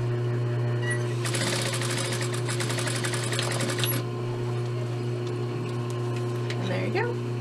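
A sewing machine stitching elastic into a skirt waistband: a fast, dense burst of stitching for about three seconds, followed by quieter intermittent whirring over a steady low motor hum.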